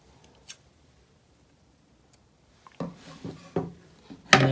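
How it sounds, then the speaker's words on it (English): Scissors snip darning thread after a knot is tied off in a clothing patch: a faint early click, then a cluster of close, crisp cutting snips and handling noises in quiet surroundings. "Snip it."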